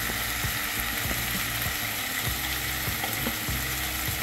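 Dal and onion fry in a pan as a spicy Nagpuri dal kanda cooks, a continuous close sizzle with rhythmic scraping and clicking of stirring, no voices.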